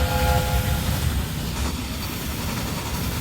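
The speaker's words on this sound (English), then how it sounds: "That is probably one of the freight trains" A freight train in the railway game Railway Empire 2 rolls past in a steady, loud, continuous rumble with a faint high whine above it and no talk.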